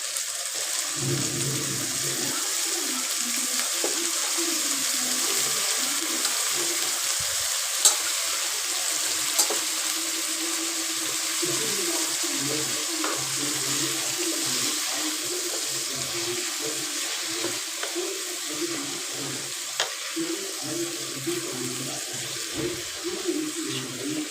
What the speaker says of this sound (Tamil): கத்திரிக்காய் வந்து தண்ணியில் போட்டு வச்சுக்கோங்க